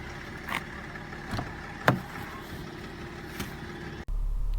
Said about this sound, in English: The dealer arrives in a fancy German car that only biscuit dealers can afford